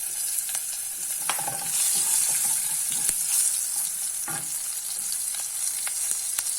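Green chillies and turmeric powder fry in hot oil in a pan for sabudana khichdi, a steady bright sizzle with occasional stirring scrapes and spatters, no voices.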